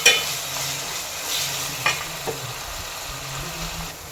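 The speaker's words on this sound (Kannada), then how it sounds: "ಶುಂಠಿ ಬೆಳ್ಳುಳ್ಳಿ ಪೇಸ್ಟ್ನ ಲೋ ಫ್ಲೇಮಲ್ಲಿ ಇಟ್ಕೊಂಡು ಚೆನ್ನಾಗಿ ಫ್ರೈ ಮಾಡ್ಕೋಬೇಕು," Ginger garlic paste fries gently on a low flame, a soft steady sizzle under brief stirring scrapes and light clicks of a spoon against the pan.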